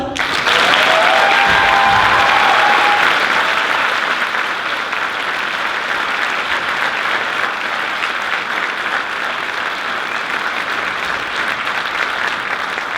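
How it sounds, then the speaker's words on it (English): A school band senior concert audience gives a loud round of applause, dense crowd clapping that holds steady and then eases slightly, with a few cheers and whoops early on. "Can we get a round of applause?"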